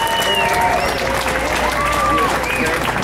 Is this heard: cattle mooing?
no